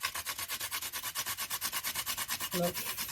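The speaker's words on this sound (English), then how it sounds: "I'm gonna grate my nutmeg, or you can use the powder form." A whole nutmeg is grated by hand in quick, even rasping strokes, about ten per second, close and steady with no speech.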